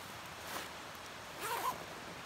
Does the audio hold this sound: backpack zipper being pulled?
yes